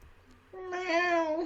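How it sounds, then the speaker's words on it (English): A pet cat meows once, a drawn-out, fairly close cry that rises and then trails off, heard alone in a quiet room. "she loves to meow all the time"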